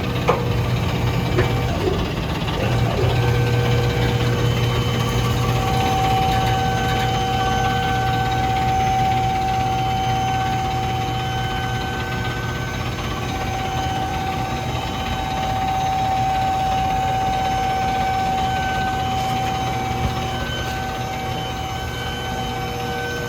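A Ford engine idles steadily on a shop lift with a faint rattle under the hood, a constant mechanical hum with tonal whine carrying through the whole stretch.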